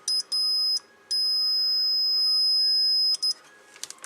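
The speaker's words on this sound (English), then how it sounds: "So now we'll do a continuity test through L47." A multimeter's continuity beep while testing coil L47 on a Kenwood TS-440 radio: a steady, clear high-pitched tone, broken by a few short chirps, then a long sustained beep before some faint clicks.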